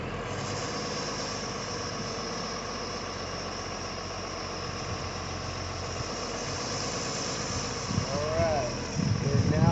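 A heavy shunt truck (yard tractor) engine idles and rumbles steadily, rising slightly toward the end as the vehicle turns.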